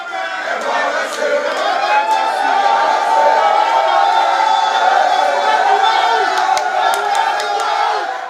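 A large crowd of family members, palace functionaries, friends and well-wishers at the Benin palace bursts into celebration, with loud sustained cheering, whoops and overlapping shouting voices close by.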